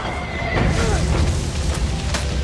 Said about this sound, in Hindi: लियो अपने घोड़े के साथ हजारों फीट नीचे जा गिरा।